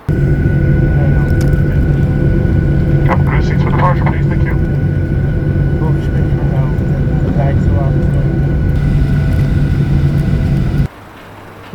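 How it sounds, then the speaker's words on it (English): A jet airliner taxis along a taxiway toward the runway at Shannon, a steady loud engine rumble and whine filling the cabin, with faint voices and small clicks over it before the sound drops sharply near the end. "We're now on Delta 1 taxiway, taxiing to runway 24."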